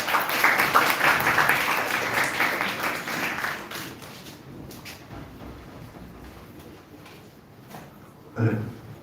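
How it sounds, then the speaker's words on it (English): At the YUGMA 2025 event, an audience breaks into loud, dense applause that gradually thins and fades, with a voice speaking briefly near the end. "A huge round of applause, everyone."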